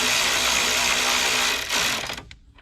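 A power driver snugs a bolt on an oil separator bracket on a 2.7L Chevy Silverado engine, giving a close, steady mechanical whir for about two seconds that winds down and stops.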